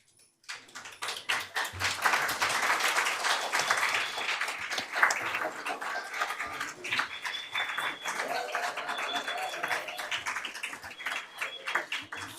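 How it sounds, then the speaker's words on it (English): Applause for teachers at a city council meeting in Carson, California: steady crowd clapping that swells early and continues unbroken for about twelve seconds, moderately loud and slightly distant in a large room, with faint murmuring beneath. "let's give our teachers a round of applause"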